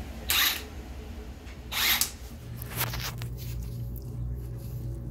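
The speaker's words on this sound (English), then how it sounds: "I'm going to remove a 17 millimeter bolt to remove the sway bar link" A power tool works loose a 17 mm bolt on the sway bar link of a 2001 Lexus LS430 in two short, sharp whirring bursts and a softer third, separated by quiet shop background.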